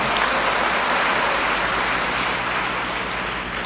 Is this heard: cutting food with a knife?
no